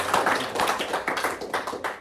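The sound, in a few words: congregation clapping hands in church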